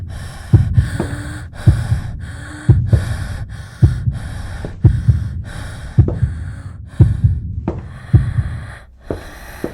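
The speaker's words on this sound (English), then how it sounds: "control my breathing, take deep breaths" Deep, controlled breathing close to the microphone, a steady run of loud inhales and exhales repeating roughly every second, with no talking.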